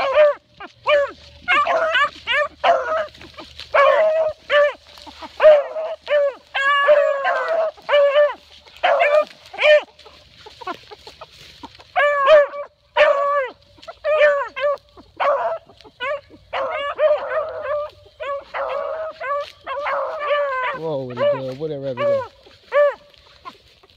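Puppies offered for sale yip, bark and whimper in a steady run of short, close, fairly loud calls across the whole stretch, ending in a rising and falling whine, while someone talks now and then in between.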